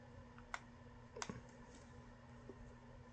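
Three or four sharp, faint button clicks from a digital night vision monocular, spaced irregularly and heard close up in a quiet room.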